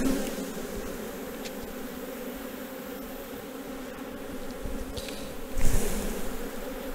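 Honey bees buzz in a dense, steady hum around an opened beehive frame, close and continuous, with occasional handling knocks and no speech.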